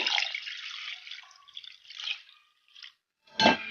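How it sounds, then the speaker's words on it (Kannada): Water pours into lentils in short, splashy trickles that stop and start, ending with one brief louder splash. "ಸ್ವಲ್ಪ ನೀರು ಸೇರಿಸ್ಕೊಂಬಿಡೋಣ ಈಗ"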